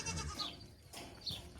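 Goats bleat in their pens, two short wavering calls close by within under two seconds.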